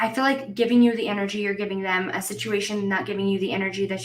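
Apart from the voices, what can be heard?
None of the usual background noises is heard.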